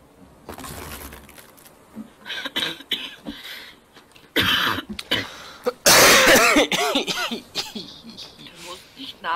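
Several coughs and throat-clearing bursts from players in The Forest, loud and close, mixed with talking and a loud rasping outburst in the middle.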